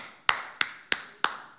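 Four sharp hand claps, evenly spaced about a third of a second apart, close and crisp, each ending in a brief room decay, with no voices.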